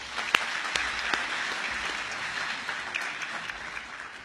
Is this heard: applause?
yes